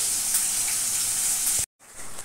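A fish head frying in hot oil in a home kitchen, a steady close sizzle and crackle that cuts off abruptly, then resumes more softly.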